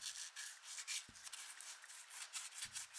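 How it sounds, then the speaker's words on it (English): 400-grit sandpaper rubbing surface rust off a guitar screw, giving a steady, close, papery scraping in quick back-and-forth strokes with no voices. "A bit of sandpaper takes that surface rust right off"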